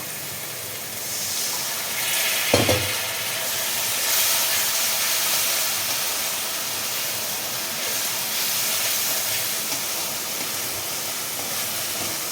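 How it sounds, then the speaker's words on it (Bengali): Spices fry in a pan as water is added, producing a loud, steady steamy hiss and sizzle that runs unbroken throughout, with a brief knock near the start. "এবার মশলা ভালো করে কষতে লাগবে একটু জল অ্যাড করবো"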